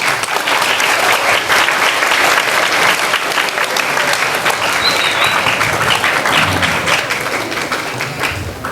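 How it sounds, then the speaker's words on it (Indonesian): Sustained audience applause fills a hall after a talk by the author of the book Cahaya Muhsin, a dense steady clapping that stays loud throughout with a faint voice underneath. "jangan terlalu lama tepuk tangannya"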